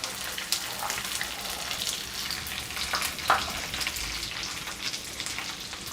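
Green chilies fry in oil in a pan for corn fried rice, producing a close, continuous sizzle with small pops and crackles scattered through it and no voices over it.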